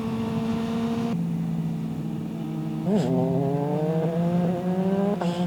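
A 250cc motorcycle engine revs at very high RPM, holding a steady, loud whine and then climbing in pitch with repeated throttle blips. It is close and continuous with no talk.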